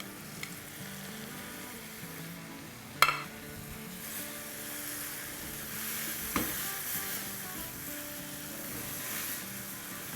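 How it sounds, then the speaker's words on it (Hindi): Spice masala with amchur, chaat masala, red chili powder and turmeric fries in oil for restaurant-style bhindi (okra), with a continuous close sizzle, a sharp utensil knock near the middle and a softer clink later, no voices. "मसाले को 2 मिनट अच्छे से भूनेंगे।"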